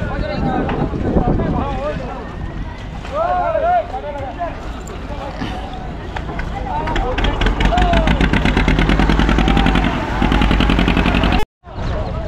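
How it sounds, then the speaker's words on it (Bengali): A trawler boat pulls away from a river ghat during the Gangasagar Mela crossing, its engine chugging in a steady, quickening rhythm beneath wind noise while someone talks over it nearby. "তো এই যে ট্রলার এখন ছাড়ছে"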